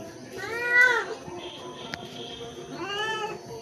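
A mother cat meows loudly while searching for her kitten, two drawn-out rising cries about two seconds apart, near and clear, with a quiet voice in the background.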